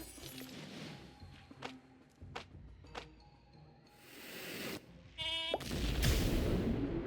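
Cartoon sheep bleats in the video game Phobies, heard as short repeated cries amid game effects, thumps and a rising burst of noise near the end.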